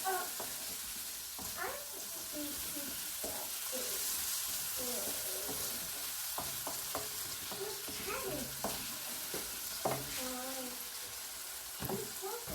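Fish for brown stew being stirred in a frying pan with seasoning, a soft continuous sizzle under repeated clinks and scrapes of a utensil against the pan, fairly quiet and close, with some low speech-like sounds mixed in.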